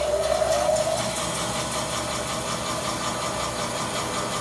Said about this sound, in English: And that's a nice quiet bandsaw.